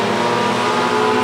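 Race cars, among them a 2001 Honda Prelude and a Chevy Cobalt, roar past in a heat race, a loud sustained engine drone with layered revving tones and no voices.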